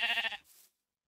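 One short sheep bleat from a Minecraft video game, clear and close, fading quickly into silence.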